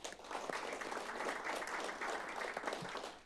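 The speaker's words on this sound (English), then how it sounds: "we'll give him a little clap too, Ricky." Steady applause from a school board meeting audience, a continuous wash of clapping hands at moderate volume with no talking.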